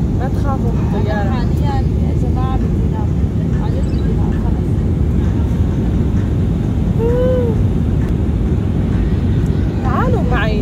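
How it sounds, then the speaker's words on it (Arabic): Steady low roar of airplane engines fills the cabin on a flight from Lebanon, continuous and loud, with voices and a child's chatter heard over it. "ما تخافوا من الطيارة."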